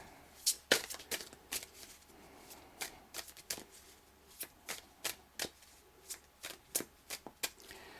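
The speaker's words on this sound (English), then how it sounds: "I'll do a few more shuffles and see if any come out." Tarot cards riffled and shuffled in quick bursts of crisp flicking and slapping, close up and alone, with short pauses between shuffles.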